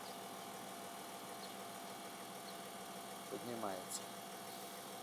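A diesel car engine idling just after a cold start, a faint, steady low hum throughout, with a short spoken word near the end.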